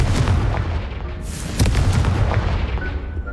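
Confringo blasting spell in Hogwarts Legacy, a loud close explosion with a booming burst and sharp crack, followed by a rolling rumble that fades out over a few seconds.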